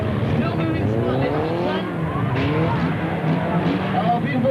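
At a citizens band cruisers club demolition derby, a car spins around on the track with engines revving and tires squealing in sweeping pitch bends, loud and continuous, while a commentator's voice runs underneath.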